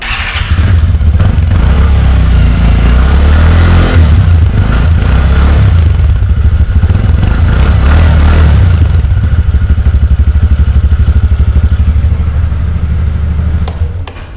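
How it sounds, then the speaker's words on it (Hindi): TVS Ntorq 125 Race Edition BS6 scooter idling and revving, a loud, bassy exhaust note that runs steadily and close for the whole stretch with no talking. "मैं आपको एक बार इसका एग्जॉस्ट नोट सुना देता हूँ।"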